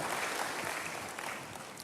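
Church congregation clapping, a short burst of steady, fairly faint applause heard at a distance with no voices over it.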